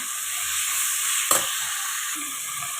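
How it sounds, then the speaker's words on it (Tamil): Onions sautéing in a pan for chicken thokku with ginger-garlic paste, a loud continuous close sizzle with a brief stirring clatter midway, no voices. "வெங்காயத்தை போட்டு நல்லா வதக்கிக்கலாம்"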